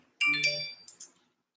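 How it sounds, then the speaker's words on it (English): A short phone ringtone sounds once, a bright melodic electronic chime lasting under a second, close and clear against silence. "The phone says hello as well."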